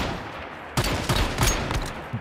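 Gunfire in the Once Human video game comes as a quick burst of several sharp shots over a steady noisy background.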